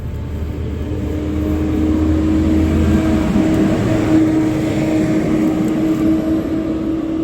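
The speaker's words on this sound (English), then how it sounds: "Sorry about the street noise. A garbage truck went by and I'm outside," A garbage truck rumbles past on a street outdoors, a loud, steady low engine drone with a tonal hum that swells and holds for several seconds, with no talking.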